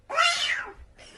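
A voice imitates a cat's meow, a single drawn-out rising and falling cry at close range, followed by a short, quieter second call.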